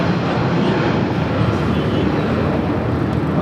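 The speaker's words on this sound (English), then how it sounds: "That was United 221 taking off to Newark on the 757-200." A United Boeing 757-200 taking off at LAX, a loud, steady, broadband engine roar filling the whole stretch without letup, heard close and without talk.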